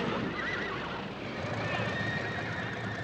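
Lipizzaner horses at an Austrian stud farm whinny and neigh, with hooves clip-clopping in a steady, close, busy backdrop.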